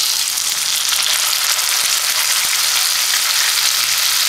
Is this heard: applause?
no